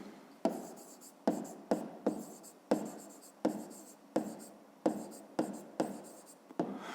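Pen strokes on paper come close and distinct as a series of short scratching bursts, each starting sharply and fading, in an uneven rhythm while numbers are written down.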